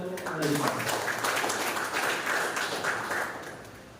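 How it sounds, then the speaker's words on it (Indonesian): An audience at an Indonesian district training session breaks into applause, a soft wash of clapping that swells early and fades toward the end, with a voice over the start. "Tepuk tangan untuk beliau"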